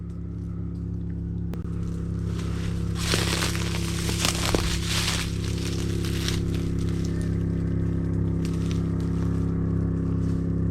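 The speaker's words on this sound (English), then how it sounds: "That boat is getting closer to us." A boat motor drones steadily near the historic Walker Mine, a constant low hum under wind-like noise and scattered crackles. The sound swells slightly as the boat draws closer, and nobody speaks.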